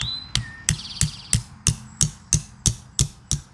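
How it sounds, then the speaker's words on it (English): A Bell & Howell tack hammer drives a solar spotlight stake into the ground with about eleven sharp, evenly spaced strikes, close and loud, each blow landing cleanly with no talk. "Now we can just nail our stake into the ground and set this up for a ground light. I'm going to be using my Bell & Howell tack hammer."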